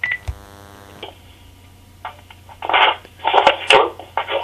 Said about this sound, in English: about to phone Ryan McGillivray and see how episode 2 went.